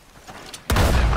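A single loud gunshot in the video game Red Dead Redemption 2, fired at a bighorn ram, a sudden booming blast that breaks a quiet outdoor background and rings on.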